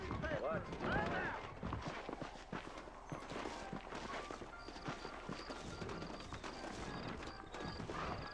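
Rhythmic clip-clop of horse hooves on a hard surface in the video game Red Dead Redemption, beneath people talking, with faint mechanical clatter in the background.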